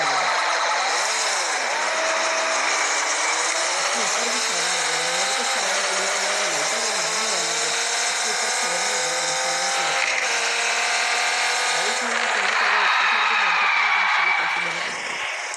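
A Raptor truck engine revs loudly in the mobile game Car Parking Multiplayer, rising and falling in a continuous roar over about fifteen seconds, with background game music.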